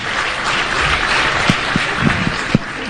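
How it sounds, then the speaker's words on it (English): An audience claps together for a Deputy Speaker at a ceremony in Mbarara, a dense steady wash of applause with a few sharper individual claps standing out. "let us stand up and clap for him"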